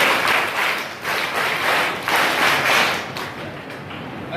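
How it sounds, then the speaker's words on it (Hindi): Audience at a school annual function in India claps to welcome the chairman, a dense, rolling patter of many hands that swells in waves, steady and fairly loud throughout. "अध्यक्ष महोदय का स्वागत करते हुए प्रिंसिपल सर अभिनंदन ताली करो।"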